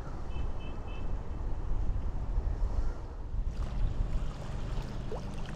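Wind blowing over choppy Fairhaven Lake on a breezy day, a steady rushing, buffeting noise with low rumble from gusts hitting the microphone, with no speech.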